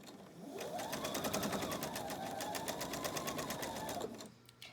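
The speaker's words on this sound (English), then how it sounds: "I'll line up the first seam right there, and I'll go start to sew my rows together." A sewing machine runs steadily while quilt rows are sewn together for a table runner, a continuous close rapid stitching hum with regular needle ticks, stopping near the end.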